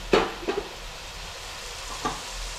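A large spoonful of ginger garlic paste fries in a pan for cauliflower curry, making a quiet, steady sizzle broken by a few short spoon clatters.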